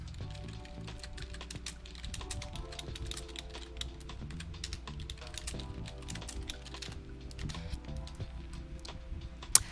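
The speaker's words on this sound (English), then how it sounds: "oh, let me type it in here" Steady typing on a computer keyboard, a dense run of close, rapid key clicks continuing without a break and with no voices.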